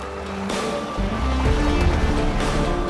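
A 2017 Jeep Grand Cherokee Trailhawk fords shallow water on an off-road trail, making a loud, continuous rush and splash of water over a low engine rumble that swells toward the end.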